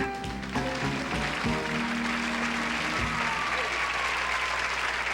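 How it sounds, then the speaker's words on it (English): Studio audience at a 1970s television game show breaks into loud, steady applause with some cheering, starting over a brief musical sting and then sustained evenly throughout. "somebody brought their own cheering section"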